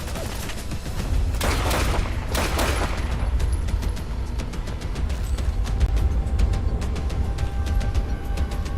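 Dense gunfire from the video game Fallout London rattles almost nonstop, with heavy bursts early on and rapid overlapping shots carrying through to the end, loud and close.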